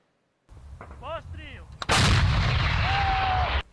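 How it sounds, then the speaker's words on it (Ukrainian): A few short whistles, then a single sharp, very loud shot from an American M777 howitzer that booms and rolls on for over a second before fading. "Це постріл з американської гаубиці М777"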